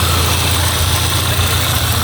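A Peugeot 206 engine with a Magneti Marelli ECU idles up close, giving a steady, loud low hum with an even mechanical drone and no changes in pace.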